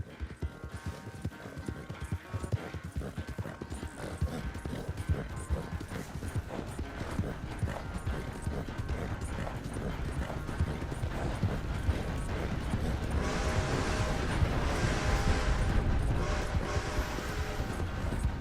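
A horse in the Red Dead Redemption 2 video game walks with steady, rhythmic clip-clop hoofbeats, close and continuous, with light tack rattling over a faint ambient background and no speech.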